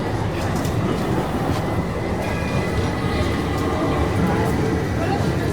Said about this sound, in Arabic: هذا المترو،